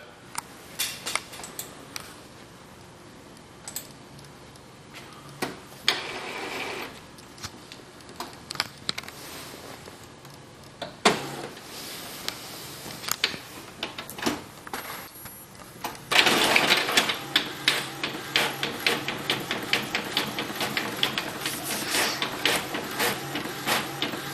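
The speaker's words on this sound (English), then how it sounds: "No, print this out." A sign-making printer running a practice contour-cut job, with repeated mechanical passes, whirring carriage movement and clicks that grow louder and busier toward the end.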